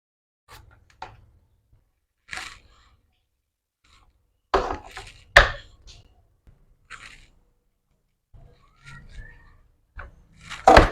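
A slightly wilted luffa gourd is chopped with a knife on a cutting board: scattered, irregular chops and scrapes, close and moderately loud, with quiet gaps between the cuts.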